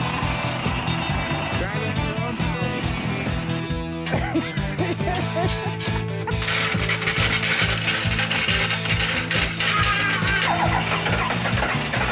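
A ratcheting jack lifts an Oldsmobile car, its pawl clicking in a fast, loud, continuous rhythm close by, with brief pauses and metallic rattles between strokes.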